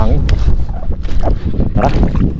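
Strong wind roars and buffets the microphone in a heavy, continuous low rumble in a mangrove, with people talking underneath.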